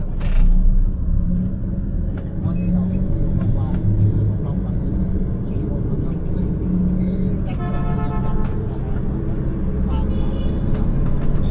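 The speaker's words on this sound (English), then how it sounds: "So this bus here has a decent amount of space." Steady low engine rumble and road noise inside a moving bus departing Nha Trang on the way to Da Lat, continuous throughout, with faint rattles and a brief tonal beep near the end.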